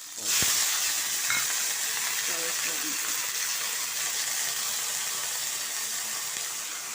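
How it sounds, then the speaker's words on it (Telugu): A little water is poured into a hot cooking pan that already holds green chillies and salt. It sets off a sudden loud hissing gush that stays steady and strong to the end. "సాల్ట్ వేసుకున్నాక కొంచెం నీళ్ళు పోస్తున్నాను."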